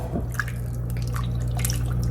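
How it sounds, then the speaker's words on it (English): Broth pours into a soup pot as a gentle, close liquid splashing and dribbling over a steady low hum, lasting a couple of seconds. "go ahead and add in your broth"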